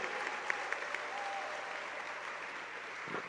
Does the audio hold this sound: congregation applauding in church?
yes